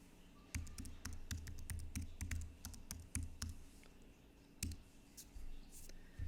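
Typing on a computer keyboard while searching for the Screencastify extension: a steady run of close, crisp key clicks with a few short pauses, then a louder final tap.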